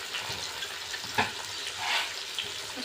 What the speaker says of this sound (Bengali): খুব ভালো করে আমি মশলাটা কষিয়ে দেবো।